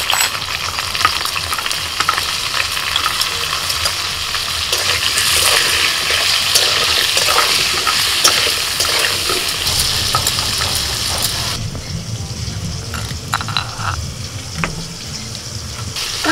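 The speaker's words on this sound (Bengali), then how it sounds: "প্রথমে আলুটা ভেজে নিচ্ছি, আলুর মধ্যে একটু লবণ আর হলুদ দিয়ে দিচ্ছি।" Potato pieces fry loudly in hot oil with salt and turmeric, a dense sizzling hiss with stirring scrapes, easing into a thinner crackle near the end.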